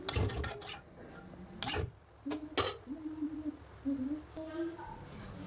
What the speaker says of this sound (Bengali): কড়াটা আমি ধুয়ে নিচ্ছি